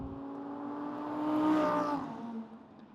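A 2021 Audi R8 V10 pulling over: a smooth, fairly quiet engine note rising to a brief swell and then easing off as the car slows, heard from inside or nearby with no voices.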